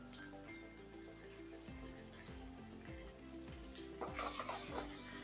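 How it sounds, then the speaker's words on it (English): Onion and bell pepper stir-frying in a hot pan, a quiet continuous sizzle with repeated spatula scrapes and a brief louder burst of crackling near the end, no speech. "When the onion and the pepper start getting colored, we can add the mushrooms."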